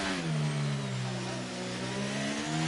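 F1 23 racing car engines at Monaco, a loud close mid-pitched engine note that dips and then climbs again as the car lifts off and re-accelerates, with no talk.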